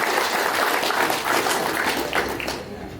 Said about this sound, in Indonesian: Tepuk tangan dulu buat Dr. Agus Taulin.